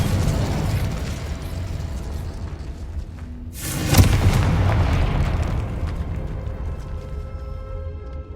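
Spell explosions from Confringo and Incendio in the Hogwarts Legacy video game, with a loud burst and rushing roar near the middle over a dense, continuous game soundscape.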